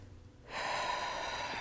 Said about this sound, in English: take a couple of nice, really deep breaths